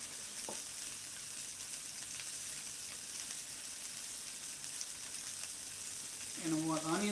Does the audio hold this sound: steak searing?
yes